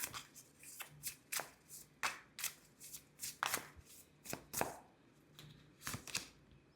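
Tarot cards being shuffled and drawn from the deck, heard as a close, quick series of crisp riffling snaps and soft slaps in an uneven rhythm, with no talk.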